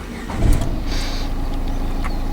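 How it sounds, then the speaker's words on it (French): A Renault Clio 4 engine starts with a brief cranking burst, then settles into a steady, close idle hum. "Donc je vais mettre le moteur en route"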